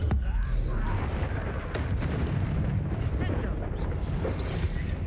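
Spell blasts and explosive booms from a Hogwarts Legacy duel, dense low rumbling bursts layered with magical crackle throughout, loud and continuous, with a voice talking over the action.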